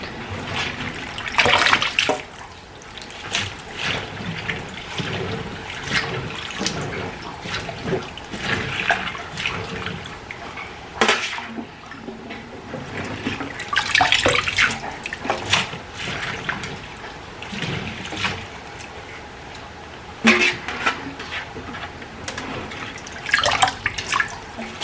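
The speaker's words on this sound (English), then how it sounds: "I'm gonna wash these a couple times." Tap water runs steadily over bok choy being washed in a sink, with splashing and dripping that swell and fade as the leaves are rinsed again and again, close and fairly loud.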